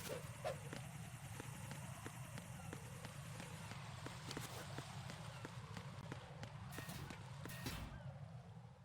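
Drone flying in Metal Gear Solid 2 on PS2, a steady whirring rotor drone with rhythmic ticking pulses running throughout, under a continuous game ambience.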